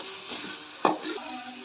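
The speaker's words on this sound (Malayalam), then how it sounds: "അപ്പോൾ നമ്മുടെ ഉള്ളിയൊക്കെ നല്ല പോലെ ഒന്ന് വഴന്ന് വരട്ടെ." Onions sautéing in a pan for a Palakkad-style chicken curry: a soft, steady sizzle with one sharp scrape of a spoon midway and a few lighter stirs, close and fairly quiet, no talking.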